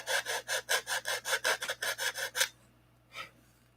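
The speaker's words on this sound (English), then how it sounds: "So we're going to clean this slot up a little bit. I use 80 grit on that" Coarse 80-grit sandpaper rubbed back and forth to clean up a slot in wood on a new plane's hinge, a steady run of about a dozen close, loud rasping strokes, then a pause and one last stroke.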